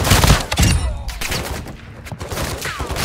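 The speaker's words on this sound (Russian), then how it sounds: "Это так, чтобы ты понял, что это за дробовик." Shotgun blasts in Warzone 2 DMZ, a couple of loud close booming shots at the start followed by rumbling echo and clattering game sounds.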